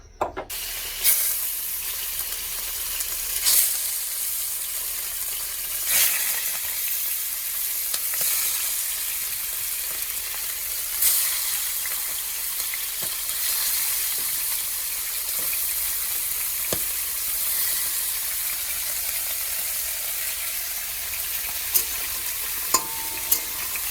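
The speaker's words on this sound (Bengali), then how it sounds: "আর এদিকে মাছটা দিয়ে দিলাম মাছগুলো ভাজা হয়ে যাক" Fish fry in a hot kadai with a constant, loud sizzling hiss, broken by periodic sharp clinks and scrapes of stirring. No voices are heard.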